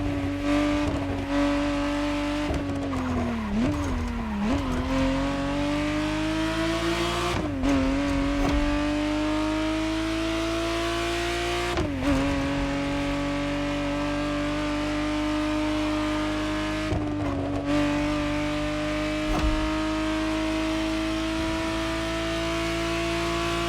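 A 1991 Ferrari Testarossa in The Crew Motorfest revs hard and steadily, its engine note climbing and dropping through repeated gear changes with brief lifts, loud and close with no talking.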